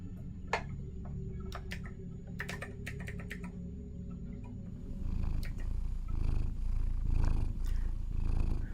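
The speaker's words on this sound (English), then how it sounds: "That purring sound is just a really cute sound." A cat purrs close to the microphone in a steady rhythmic rumble, with sharp computer keyboard clicks in the first half before the purring swells louder.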